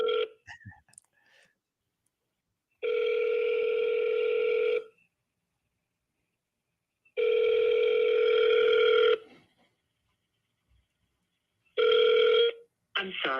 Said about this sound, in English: I'm going to call Miss Anita here in Deming, New Mexico